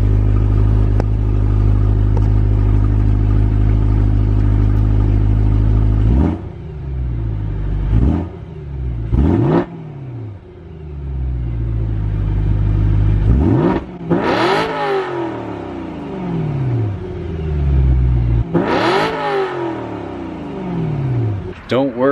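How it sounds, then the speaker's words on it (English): A BMW E92 M3 engine idles with a deep rumble, then several sharp revs climb and drop back, each blip echoing loudly up close off a garage door. "I think you guys want a couple revs."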